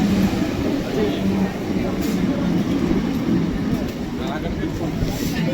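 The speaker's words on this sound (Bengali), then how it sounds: "আমাদের ট্রেন ঢুকছে এটাতে করেই যাব নৈহাটি" A train pulls into a station on the line toward Naihati, its steady low rumble and rolling wheel noise filling the scene throughout, with talk and crowd murmur mixed in over the top.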